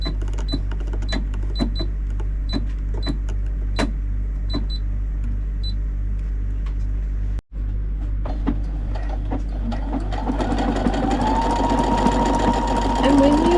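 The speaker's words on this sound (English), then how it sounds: "Doing decorative stitches, just let the fabric flow through the machine" A sewing machine runs steadily through decorative stitch number 38 on fabric, its needle ticking in a fast, even rhythm with a brief pause midway. A voice seems to join faintly toward the end.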